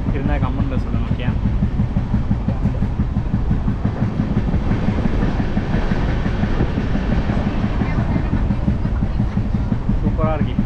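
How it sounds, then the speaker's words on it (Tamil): A passenger train runs on the rails between Delhi and Chennai, heard from inside a carriage as a loud, steady rumble with rhythmic clickety-clack of wheels over the track joints, continuing throughout with faint background voices. "ட்ரெயின் ட்ராவலிங் சூப்பராக இருக்கு, செம்மையாக இருக்குது."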